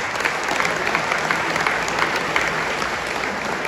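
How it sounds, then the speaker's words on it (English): An audience at a talk with an IDF veteran breaks into sustained applause, a dense steady patter of many hands clapping at once, fairly close and continuous without letup. "You guys deserve a clap."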